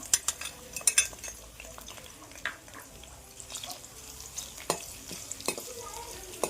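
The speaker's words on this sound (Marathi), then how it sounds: "मी त्याच तेलात लसूण आणि मिरची एकत्र टाकते" Garlic and green chili hit hot oil in a pan for a dill leaf vegetable dish, giving a bright sizzle broken by quick clinks and scrapes of a spoon stirring, moderately close, with no talking.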